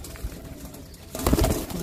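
A feral city pigeon gives a short, soft, low coo close by, a single brief throaty call.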